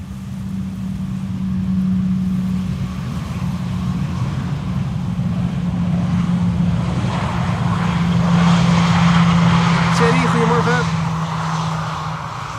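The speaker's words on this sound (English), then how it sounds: "Embraer 175. Or was that an Embraer 190?" An Embraer 175 or 190 jet lands on Schiphol's Polderbaan runway 18R, a steady engine roar with a strong low hum that holds and swells slightly over the whole stretch, fairly close, with some talk underneath.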